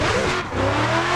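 A BMW E36 engine revving on the throttle while drifting in Assetto Corsa at Shadow Valley, loud and close, with a sustained high-revving drone, a brief dip, then climbing again, with no talking.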